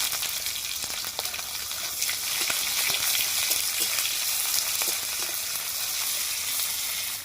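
Onion hits hot oil in a pan already tempered with dried red chilli and bay leaf, producing a dense, even hiss of frying that holds steady throughout without any voices.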